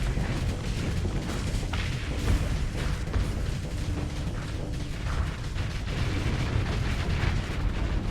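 Enemy ship weapons fire in the space combat game Starsector, a dense rumble of booms and blasts that runs continuously at steady loudness.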